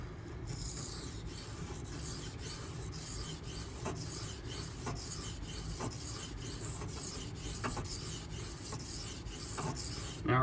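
A knife is drawn again and again across a Beston whetstone in steady strokes, making a close, continuous scraping rasp that carries no speech.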